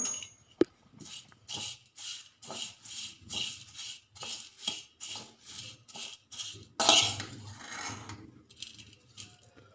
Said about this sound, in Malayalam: അവലൊന്ന് ചെറിയതായിട്ടൊന്ന് മൂപ്പിച്ചെടുക്കാം.